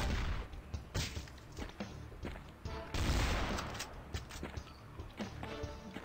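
Gangster shotgun fire in the video game Guns and Llama, a burst of several rapid, punchy blasts with thuds and crashing impacts, loud and dense over a few seconds.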